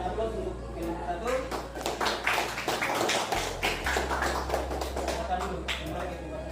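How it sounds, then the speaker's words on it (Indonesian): Classroom applause for a student group after their presentation, a burst of scattered clapping from many hands, moderately loud, with a low steady hum underneath. "Berikan aplaus untuk kelompok 1."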